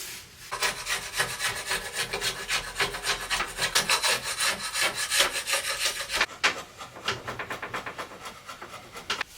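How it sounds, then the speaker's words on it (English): Rhythmic scraping and rasping strokes removing dried glue from a wooden table, quick and repeated for several seconds, close up, with a short pause partway through. "I just need to clean it up a little bit now, get rid of some of this glue."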